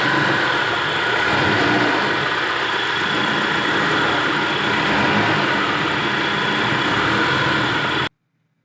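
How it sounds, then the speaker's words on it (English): A Honda car engine runs steadily as it is shifted between reverse and drive with light throttle, a constant loud mid-to-low hum with slight load changes, cutting off abruptly at the end. "shift to reverse, feather the gas a little bit, shift to drive, feather the gas"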